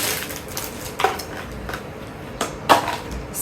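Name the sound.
smiley-face lunch box with fork and spoon being handled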